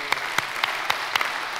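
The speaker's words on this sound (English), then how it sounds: "another round of applause, please, for Stephen Moore" An audience at a conservative policy event gives a round of applause, a steady, moderately loud wash of clapping with a few sharper, louder claps standing out at regular intervals.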